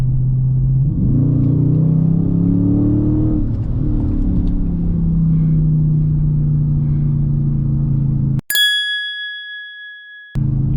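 A Dodge Charger 392 Scat accelerates without rev matching, its engine rumbling loudly and rising in pitch from inside the cabin, then cut off by a sharp ding chime.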